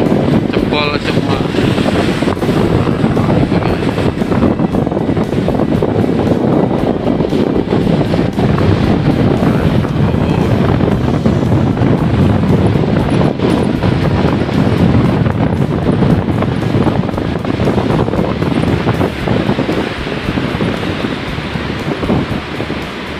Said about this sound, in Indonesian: Ombaknya sampai ke sini guys, semakin malam semakin ganas nih ombaknya